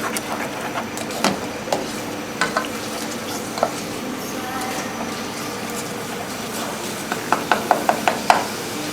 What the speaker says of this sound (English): And you can see it's just simmering quite nicely now.